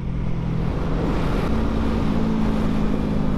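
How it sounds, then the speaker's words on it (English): A Pontiac GTO V8 engine at a car show rumbles loudly and steadily with a deep low drone, partly masked by wind noise on the microphone. "Woo, that thing pops. Man, that GTO, woo! That thing sounded pretty good."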